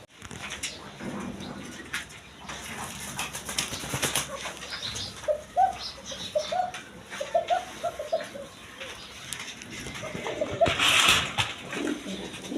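A breeding pair of Koka pigeons coos in scattered low bursts, with occasional wing flaps and soft shuffling between calls, fairly close but moderate in volume.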